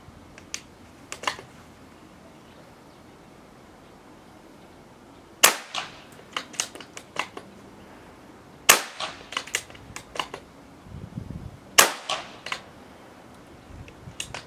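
A Daystate Wolverine 303 .30 calibre air rifle fires three sharp, evenly spaced shots. Each crack is crisp and close, separated by a few seconds of quiet, with fainter clicks and handling noises in between.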